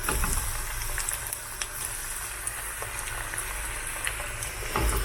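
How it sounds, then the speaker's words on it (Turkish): Egg- and flour-coated cauliflower florets frying in hot oil, cooked the way fish is fried, make a steady, dense crackling sizzle that stays loud and close for the whole stretch, with a few sharper pops and no voices. "Önce yumurtaya sonra una banmış olduğum karnabaharları atıyorum. Böyle yağ. Balık pişirir gibi pişiriyorum."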